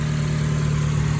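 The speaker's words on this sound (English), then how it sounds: "All you're hearing is this engine." An Acura TSX with a custom exhaust idles nearby in a steady, even low drone with a constant hum and no revving throughout.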